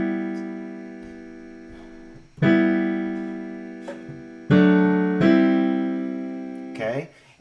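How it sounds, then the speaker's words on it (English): Piano block chords struck by the right hand, a few sustained full chords ringing out one after another with pauses between, no voices. "your right hand plays the chords just like block chords"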